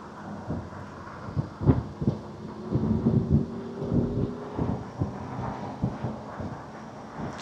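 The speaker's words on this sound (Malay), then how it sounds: "dengarlah bunyi angin kalau anda masa bawa kereta ni" Wind rushes and buffets around an MG Cyberster convertible while driving, a low rumbling roar with irregular gusty thumps, fairly faint and continuous with no talking.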